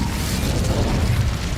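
Incendio fire spell cast in Hogwarts Legacy, a loud roaring whoosh of flame that stays dense and steady throughout, no talking.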